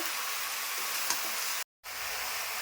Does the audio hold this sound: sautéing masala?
yes